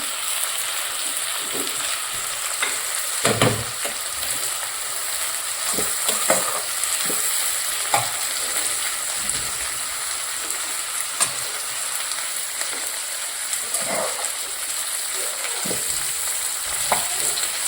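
Kadai paneer masala with tomatoes sizzles steadily in a pan, a constant frying hiss broken by scattered clinks and scrapes of a spoon stirring.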